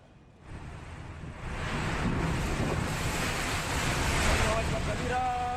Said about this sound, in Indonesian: kondisi dalam kapal feri saat dihantam angin kencang dan ombak setinggi 2 meter